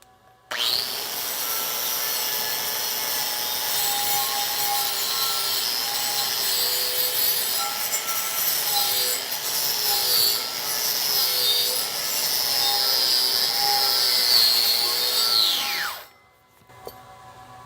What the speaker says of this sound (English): so we're going to use our grinder.